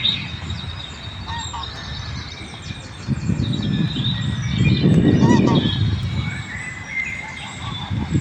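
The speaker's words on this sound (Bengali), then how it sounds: "এগুলো হচ্ছে রাজহাঁস" Swans honking repeatedly on a pond in Aspire Park, Doha, Qatar, their nasal calls rising and falling over a steady outdoor background, growing louder toward the middle.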